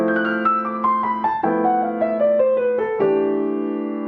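Bebop scale run played across two octaves in a lilting triplet rhythm, likely on piano, a steady stream of descending notes with a low chord sustained underneath, played alone with no talking.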